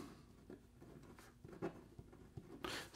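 Fine stainless steel nib of a Hoverpen 3.0 fountain pen writing on paper, faint soft scratches and light taps in short irregular strokes, close and quiet, with no talk.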